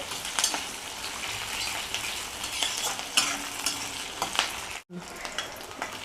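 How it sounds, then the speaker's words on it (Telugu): Onions frying on low heat in a pan for horse gram rasam: a continuous close sizzle with scraping stirs and clinks, briefly cutting out near the end before resuming. "ఇదిగోండి కొంచెం ఫ్రై అయిపోయినాయి ఉల్లిపాయలు"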